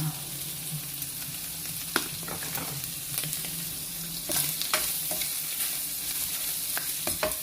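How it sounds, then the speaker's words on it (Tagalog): Radish and chicken liver sautéing in a pan, a steady sizzle with repeated scraping stirs and utensil clicks throughout, close and fairly loud with no voice. "Gisa natin yan guys"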